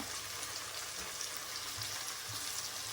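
Green chili, curry leaves and onion frying in a pan of hot oil, a dense, even sizzle heard close and alone, with no talk.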